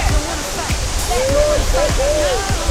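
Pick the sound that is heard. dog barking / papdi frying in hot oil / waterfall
waterfall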